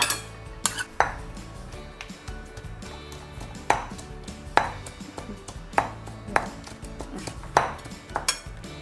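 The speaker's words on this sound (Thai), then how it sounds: "เดี๋ยวเราเอานะคะหอมแดงกับกระเทียมที่เราคั่วไว้ลงไปตำเลยค่ะ" Roasted shallots and garlic pounded in a mortar with a pestle, a steady series of hard knocking thuds with slight clinking, close up and repeating roughly every half second to second.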